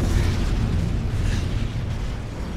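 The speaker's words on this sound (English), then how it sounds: "Friendly strafe run incoming." A strafe run in Modern Warfare 3 on the Hardhat map in Drop Zone mode brings a continuous roar of rumbling explosions, loud and dense, with no talking.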